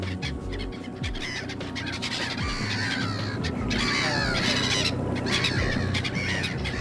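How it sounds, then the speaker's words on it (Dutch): Black tern colony calling over open water in Friesland, with a dense chorus of harsh bird calls that stays steady and fairly loud throughout, many overlapping cries with no voices present. "hier huist al jaren een zwarte sternkolonie"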